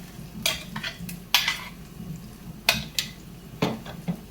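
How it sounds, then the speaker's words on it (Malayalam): Jackfruit being stirred and roasted in ghee in a pan, a spoon scraping and clinking against the metal in irregular bursts over a soft, steady sizzle. "ഇത് നമുക്ക് ഈ നെയ്യിലിട്ട് നല്ലതുപോലെ വരട്ടി നെയ്യ് തെളിയുന്നത് വരെ വരട്ടിയെടുത്ത് കൊണ്ടുവരാം"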